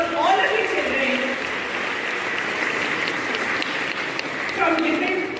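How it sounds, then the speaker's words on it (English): Audience applause at a school Model United Nations conference at Delhi Public School Siliguri, a continuous hiss of many hands clapping, fairly loud and steady, with a voice speaking over it at the start and end. "So a big round of applause for all of you children"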